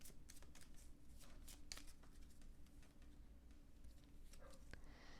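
A deck of oracle cards is shuffled by hand, giving soft, continuous papery riffles and slides with occasional crisper flicks, quiet and close with no speech.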